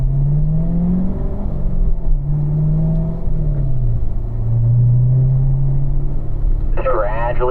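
A car on the Spring Mountain race course accelerates up through the gears into third, its engine note climbing and dropping with each shift under a constant road rumble, with a short burst of voice near the end.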